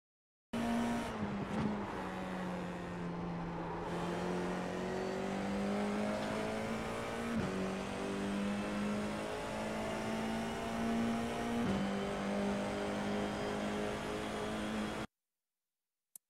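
An FIA F4 race car laps the Imola circuit, its engine droning steadily at high revs with brief dips at gear changes, loud and continuous, ending in abrupt silence.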